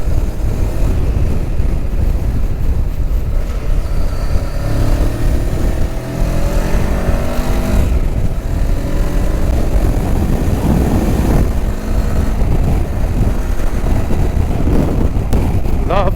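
A Voge 525 DSX motorcycle rides on the road, its engine note rising and falling through gear changes under heavy, constant wind rush at the rider's position, with a voice in the mix.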